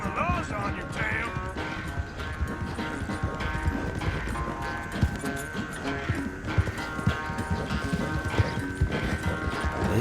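Horse hooves galloping in a video game, a steady clip-clop rhythm of fairly close hoofbeats running under constant game music and sound effects, with a voice talking over it.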